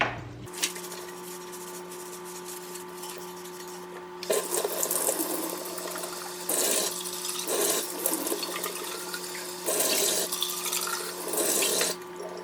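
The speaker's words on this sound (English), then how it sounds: "Then lastly, I'll clean the outside of the water bottle with my sponge." Water runs steadily from a tap while a sponge scrubs the outside of an Owala water bottle, with bursts of splashing and rubbing coming and going over the constant flow.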